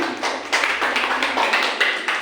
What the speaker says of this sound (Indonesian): tepuk tangan untuk teman ini